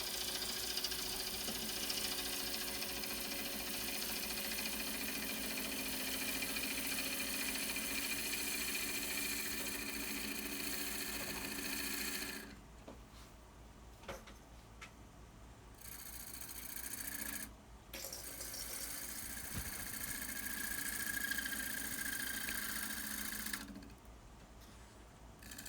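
A wood lathe turns a very dry wooden bowl, and the tool cuts with a continuous close rasping and scraping hiss over the motor hum, breaking off twice into quieter motor-only gaps before the cutting resumes.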